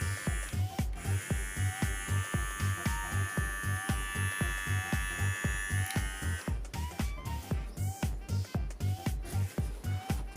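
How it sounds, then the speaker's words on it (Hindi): A Nova NHT-1045 electric trimmer buzzes steadily at close range, its motor hum carrying a fast, even pulsing throughout. "ये बड़ा वाला ट्रिमर हमने इस्तेमाल किया।"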